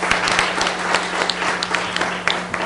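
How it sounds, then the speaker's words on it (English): An audience claps for the sponsors at a CBC spouses essay contest ceremony. The applause is dense and continuous, a full-room ovation held at a steady level throughout. "let's give them a big round of applause"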